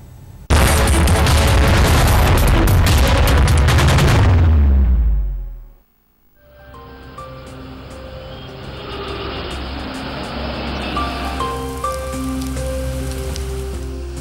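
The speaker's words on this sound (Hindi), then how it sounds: "शनिवार की सुबह मौसम साफ था, लेकिन दिन चढ़ते चढ़ते मॉनसून की फुहारों ने दिल्ली नोएडा को भिगो दिया।" Monsoon rain pours down in Delhi, a dense, loud hiss of heavy rainfall that fades out around the middle before a steadier wash of rain and wet street ambience returns with faint traffic beneath.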